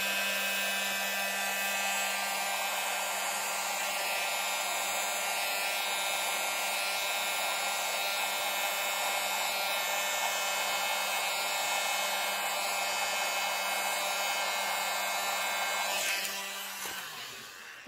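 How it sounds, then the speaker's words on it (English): A small handheld leaf blower blows steadily across a wet acrylic pour painting, a loud, continuous whooshing roar that holds for about sixteen seconds and then cuts off. "that world's largest, as I call it, but world's smallest leaf blower"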